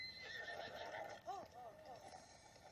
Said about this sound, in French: Je vais essayer d'en choper un qui ressemble à peu près au cheval de Link dans les jeux.